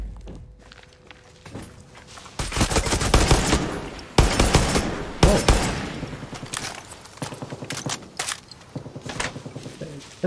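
Bursts of gunfire in the Far Cry 6 video game at the Cabeza Fuel Depot, dense volleys interrupted by thuds and footstep-like impacts, loud and fairly close with short pauses between clusters.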